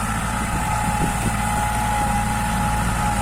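A tractor engine drones steadily while ploughing a farm field, a continuous loud, low hum with a constant pitch and no talking.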